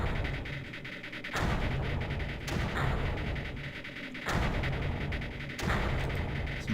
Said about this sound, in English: This mortar isn't doing much.